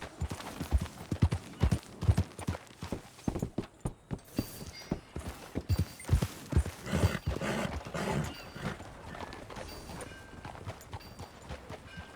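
Rhythmic clip-clop of horse hooves trotting at a steady pace in the video game Red Dead Redemption 2, fairly close, with some background ambience and occasional louder hoofbeats.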